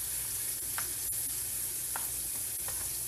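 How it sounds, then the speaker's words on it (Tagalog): Garlic sizzles steadily in melted butter in a pan for garlic baby potatoes, a continuous bright frying hiss with a few faint clicks of stirring, close and even throughout. "Pag nag-melt na yung ating butter, lalagay na natin dito yung ating garlic."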